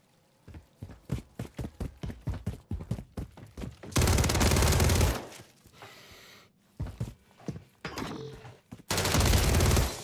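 Rapid pistol shots crack out in a quick rhythmic volley in a video game, followed by bursts of dense, loud automatic gunfire broken by short pauses, with no talking.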